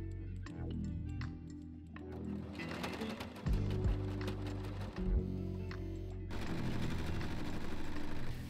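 A sewing machine stitches the shoulder and side seams of a cozy pyjama in rapid mechanical bursts, pausing briefly between runs with a couple of louder thumps, close and steady throughout.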